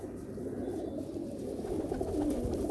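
Golden pigeons coo softly in a loft, low murmuring calls overlapping in a continuous, close, fairly quiet flock sound with no voices.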